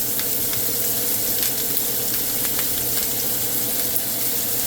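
Steaks sear in an electric pan on medium high heat with thyme nearby, giving a steady, even sizzle with faint crackles, close and alone without talk.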